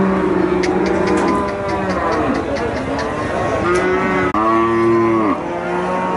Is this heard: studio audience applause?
no